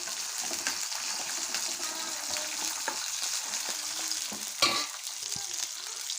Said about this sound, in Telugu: ఆయిల్ హీట్ అయిందండి ఇప్పుడు ఈ దొండకాయలు అయితే ఇందులో వేస్తున్నాను ఇవి చక్కగా ఫ్రై అవ్వాలి